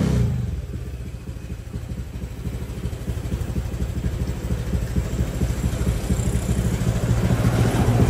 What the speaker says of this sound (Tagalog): Tahimik na tahimik yung makina. Tahimik na tahimik yung andar.